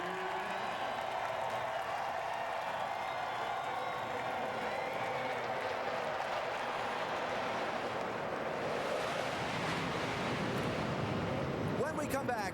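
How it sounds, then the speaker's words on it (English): Crowd roar at Indianapolis Motor Speedway before the 2008 NASCAR Sprint Cup Brickyard 400, a broad, sustained wash of distant cheering and noise swelling steadily, with a louder surge near the end. "Listen to the crowd."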